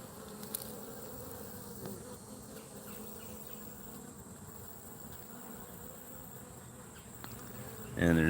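Honey bees drone steadily around beehive frames, a continuous close buzzing hum that holds throughout, with a brief louder bump at the end.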